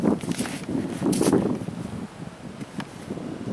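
Wind gusting across an outdoor disc golf course, low rumbling buffeting against the microphone in uneven bursts, with faint rustling and no speech.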